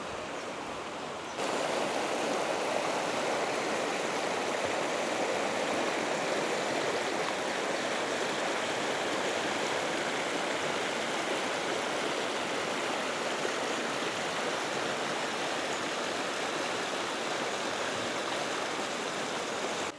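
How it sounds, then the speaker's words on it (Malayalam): Golden Whip Stream rushing through forest in Zhangjiajie National Forest Park, a steady, full broadband wash of flowing water that fills the scene after a brief quieter start; small birds are not clearly distinct over the water. "അരുവിയുടെ ശബ്ദവും കൊച്ചു പക്ഷികളുടെ സൗണ്ടും എല്ലാം കൊണ്ട്."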